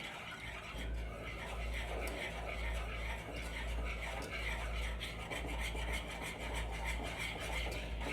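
Chocolate sheet cake batter is stirred in a bowl, giving a close, rhythmic scraping and rubbing that repeats steadily at a low level over a faint background hum, with no talk.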